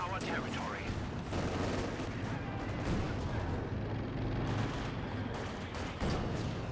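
Gunfire and mortar barrages in Company of Heroes 2, a World War II strategy game, form a dense, continuous rumble of shots and blasts beneath steady commentary speech.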